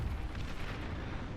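Artillery in the real-time strategy game Beyond All Reason thunders in a dense, rumbling barrage of deep booms and blasts, loud and continuous with no gaps.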